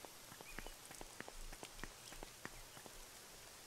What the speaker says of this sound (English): Maybe it's because it's raining.